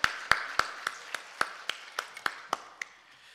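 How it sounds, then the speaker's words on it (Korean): A congregation at a Korean church service claps in an even rhythm: about a dozen sharp, evenly spaced claps, fairly faint, with no other sound between them. "할렐루야로 하나님 앞에 영광의 박수 올려드립니다"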